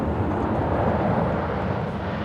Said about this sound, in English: both supersonic jets begin to roll down the runway